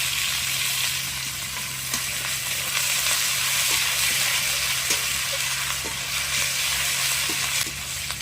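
Garlic and ginger paste frying in hot oil with whole cumin and green chillies in a kadai, a steady loud sizzle hissing throughout with occasional small pops.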